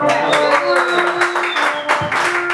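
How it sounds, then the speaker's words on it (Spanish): Audience applause and cheering at a birthday mariachi serenade, dense clapping over sustained instrumental tones, with voices calling out in the crowd. "fuerte el aplauso para Marcela, que se escuche"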